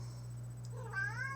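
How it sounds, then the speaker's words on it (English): A pet house cat meows close by in a quiet room, one rising then falling call near the end, with a steady low electrical hum underneath. "Oh, that's my cat, by the way."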